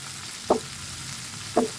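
Onions and green chilies frying in hot mustard oil give a steady, close sizzle, broken by two short stirring knocks.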